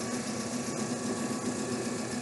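A DC shunt motor runs at a steady speed with a continuous mechanical hum and faint rattling vibration, constant and close, with no voices.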